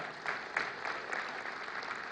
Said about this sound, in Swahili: These great people, tuwapigie makofi tena wako hapa.